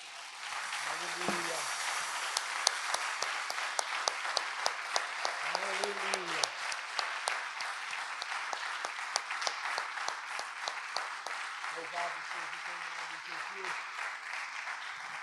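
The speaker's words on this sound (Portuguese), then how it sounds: "Vamos aplaudir o Senhor?" A church congregation applauds steadily for about fifteen seconds, a dense field of hand claps with brief sung or spoken voice fragments rising over it now and then.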